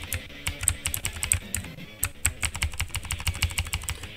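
Quick, close clicking keystrokes on a computer keyboard hooked up to a Raspberry Pi come in uneven bursts with brief pauses, clear and moderately quiet with no talk.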